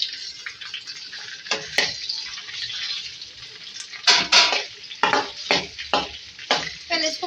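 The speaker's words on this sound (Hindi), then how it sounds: "देखिए यहाँ पे अलग से पैन में मैंने ऑयल लिया है, इसमें 200 ग्राम भिंडी है, इनको हम फ्राई करेंगे।" Okra frying in oil in a pan: a close, bright, continuous sizzle with crackles, broken by several sharp bursts of spattering and stirring toward the end.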